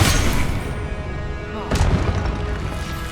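Confringo fire-blast spells cast in the video game Hogwarts Legacy: a loud, booming explosive burst at the start and a second sharp blast partway through, both set against a dense, continuous wash of battle sound.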